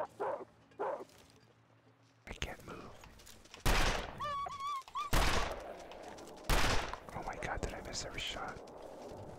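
Several loud gunshots fired at a wolf in the survival video game The Long Dark, sharp separate blasts spread across the clip, with whispered talk between them.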